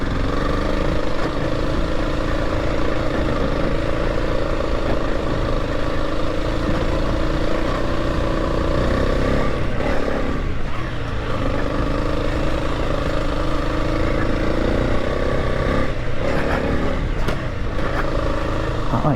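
An adventure motorcycle loaded with pannier luggage runs along a narrow single-track dirt trail, its engine humming steadily and close throughout, with brief rougher bursts of throttle and no talk over it.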